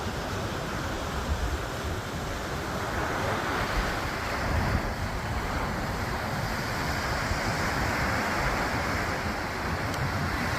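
Winter sea waves at Naksan Beach roll in as a steady, loud wash of surf, with wind buffeting the microphone throughout and no talking.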